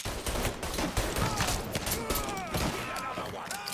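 Dense gunfire in Mafia 3 Definitive Edition during a robbery shootout: rapid, overlapping shots and bursts crackle continuously at close range, with shouted combat voices mixed in.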